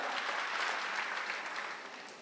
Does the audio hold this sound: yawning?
no